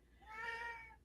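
A cat lets out one clear, drawn-out meow indoors, soft and somewhat distant, with no talking around it.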